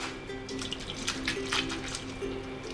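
Water sloshing and splashing in a bowl as sliced onions are rinsed by hand, a steady close wash of liquid with small bursts of swishing and dripping, no voices.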